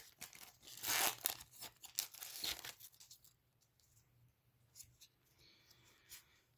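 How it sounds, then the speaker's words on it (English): Digimon card booster packs torn open close up, a burst of loud foil ripping and crinkling at first, then quieter rustling and handling of the cards. "These are easier to open than Pokemon cards."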